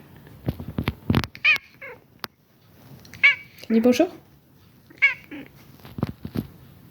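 A house cat meows repeatedly, loud and close, in several separate bursts spread across the scene, with a person speaking French between the calls.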